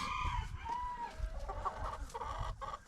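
Lemon Brahma chickens cluck and murmur close by in a rapid, overlapping stream of calls, several birds at once with busy coop noise underneath and no talking.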